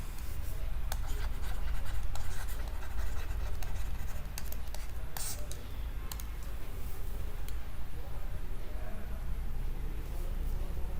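A pen scratches continuously on a board or pad as a mechanics lecture conclusion is written out, with steady close scratching and scattered clicks against a constant low background hum.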